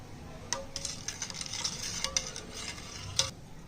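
A spoon clinks and scrapes against the inside of a container while sharbat is stirred and mixed, a quick irregular run of close, light metallic taps and swishes with no speech.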